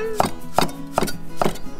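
A knife chops unripe fruit on a board for a seafood som tam salad: four crisp, evenly spaced thuds, close and clear, over a faint background.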